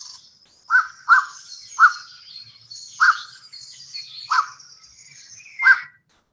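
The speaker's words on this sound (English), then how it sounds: "So that's the sound that I would hear. The Black-crowned Night Heron, Nycticorax" Black-crowned Night Heron calls played back as a recording: six harsh, abrupt croaking barks spaced irregularly about a second apart, fairly loud and alone with no talk.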